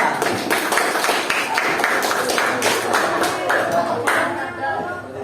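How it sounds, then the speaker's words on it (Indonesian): Classroom applause for a student group: rapid, dense clapping from many hands throughout, fairly close, fading a little at the end. "Tepuk tangan untuk kelompok 2"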